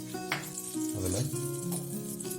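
Butter and grated coconut sizzle steadily in a hot pan, with faint stirring and soft clanks from the cookware underneath.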